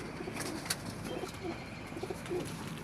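Pigeons coo softly and repeatedly in a low, rounded rhythm, several birds calling in overlapping bursts close by over a faint background hiss.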